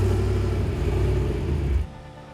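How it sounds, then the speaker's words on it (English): Third-generation Chevrolet Camaro police car with a replaced engine, running with a loud, steady low rumble for nearly two seconds before it suddenly drops to a quieter hum. "man, the car sounds amazing"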